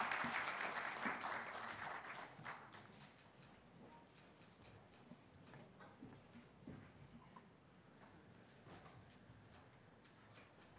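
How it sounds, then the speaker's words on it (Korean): An audience applauds to welcome panelists onto the stage at a session of an international forum in Seoul, with dense clapping for the first couple of seconds that quickly thins into faint, scattered claps. "큰 박수로 맞이해 주시기 바랍니다."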